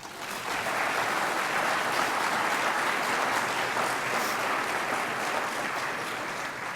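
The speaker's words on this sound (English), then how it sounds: "could we please give them a round of applause?" Audience at a keynote event applauding faculty, a broad, even roar of many hands clapping, sustained and loud from start to finish.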